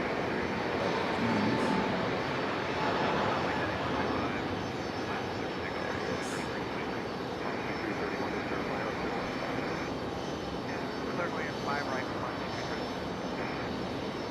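A Breeze Airways airliner landing on runway 5 right at Raleigh-Durham airport, a sustained broadband jet roar heard from a distance, steady and moderately loud for the whole stretch with a shifting engine tone.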